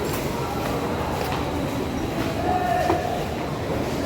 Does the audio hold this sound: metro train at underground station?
yes